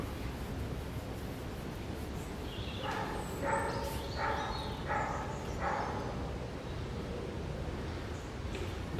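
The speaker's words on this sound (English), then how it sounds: "The barking is actually from the second dog, which I had on a lead" A big dog on a lead or chain barks in the woods during a hike, giving about five moderate barks at a steady pace, somewhat distant, over a constant wash of outdoor noise.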